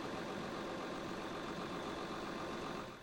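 A Case IH MX Magnum tractor engine runs at a steady idle, a constant low mechanical drone heard alone at moderate distance, fading slightly at the end.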